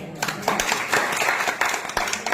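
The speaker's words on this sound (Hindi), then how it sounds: "देखो तालियां बजा रहे हो" An audience at a religious ritual talk claps together in a room, a fairly close, steady patter of hands with a few sharper claps near the end.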